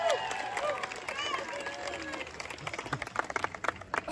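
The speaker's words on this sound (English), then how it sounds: "Round of applause for Bruce, everybody." A festival crowd at a Renaissance fair fire whip show claps and cheers, with excited voices early giving way to sharper, scattered clapping toward the end.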